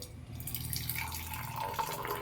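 Tea is poured from a height back and forth to froth it, making a faint continuous trickling and splashing of liquid.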